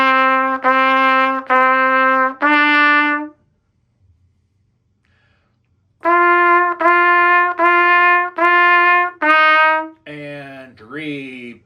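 A beginner trumpet plays the 4x4 exercise from Essential Elements: four even sustained notes, a short rest, then the line repeats with more held notes and a final bending phrase. The trumpet is loud, clear and close, with no talking.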